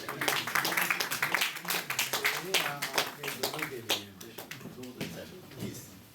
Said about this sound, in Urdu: ان کے لیے اسپیشل تالیاں ہوں